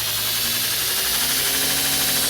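A belt sander runs near full speed while an axe is sharpened on it, giving a loud, steady, high-pitched whir with a buzzing motor hum underneath and no pauses.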